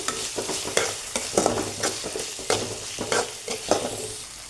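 Chitranna is stirred with turmeric powder in a pan, with a spoon scraping and clacking in an irregular rhythm over a steady frying sizzle, close and fairly loud, with no talk.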